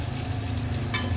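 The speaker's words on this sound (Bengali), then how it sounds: "এগুলো একটু হালকা ভাজা হইলে তারপর পেঁয়াজ দেবো।" Black peppercorns and dry whole spices frying in oil give a dense, close, continuous sizzle with a brief sharper crackle near the end; no voices.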